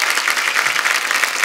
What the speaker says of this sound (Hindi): जोरदार तालियां पूरी स्टारडस्ट के लिए।